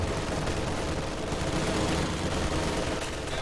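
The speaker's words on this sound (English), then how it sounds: "Meanwhile, on the other side, big infantry battles going on." Infantry battle gunfire in the World War II strategy game Company of Heroes 2, a steady wash of overlapping rifle and machine-gun fire heard from a distance, with no single shot standing out.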